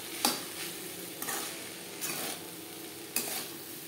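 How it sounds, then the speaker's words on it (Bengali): Spiny gourd and grated coconut are stir-fried in a kadai, with four distinct spatula scrapes over a soft, steady sizzle, close and fairly quiet. "কাঁকরোলের সাথে নারকেল বেশ ভালো করে মিক্স করে দেবো"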